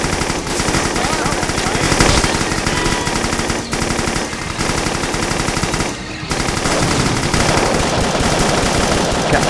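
Rapid bursts of gunfire in the Doom mod VietDoom, loud and nearly continuous automatic fire with brief pauses, mixed with game effects.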